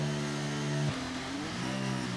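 An F1 23 race car engine revs steadily on the starting grid, holding a loud, even pitch, then dropping and climbing again as the throttle is blipped.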